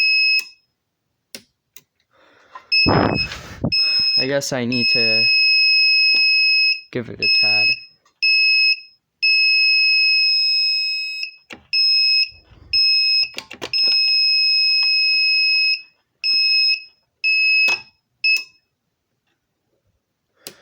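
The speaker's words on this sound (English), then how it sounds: "I'll just keep it off for a bit, but detach the buzzer." A Wezil 0001 fire alarm control panel buzzer sounds in sharp, repeated electronic beeps of uneven length, loud and close, broken by pauses and clicks, with a person speaking briefly early on.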